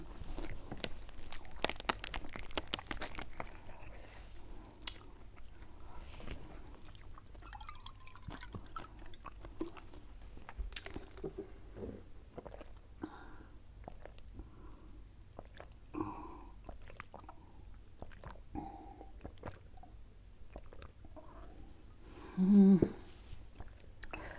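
Someone eats Thai field crab lon, a coconut-milk dip, with soft wet chewing, crunching and dripping that continue steadily up close. Near the end comes a brief louder bump.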